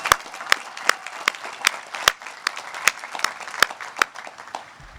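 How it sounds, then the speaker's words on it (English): A commencement audience applauds at a university graduation ceremony, a dense wash of many hands clapping with sharp individual claps popping out steadily, sustained and fairly loud throughout. "I feel like it deserves another major round of applause."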